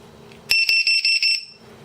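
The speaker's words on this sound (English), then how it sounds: "gives you an alarm of like this" A low-voltage battery alarm gives a rapid series of five shrill electronic beeps, close and loud, following one another quickly before stopping abruptly.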